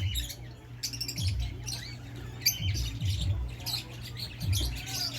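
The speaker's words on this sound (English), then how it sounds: "The lovebirds and the parakeets," Pet lovebirds and parakeets give short, harsh squawks and chirps in irregular bursts, fairly close, over a low background hum.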